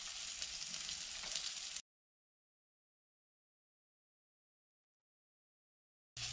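Fish fillets from freshly caught sea trout, dipped in egg yolk and a little flour, fry in a pan. A steady, bright sizzle lasts under two seconds, then cuts to silence before briefly returning at the end.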